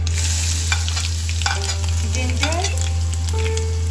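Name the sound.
ginger added to sizzling oil with crackled methi, mustard, cumin seeds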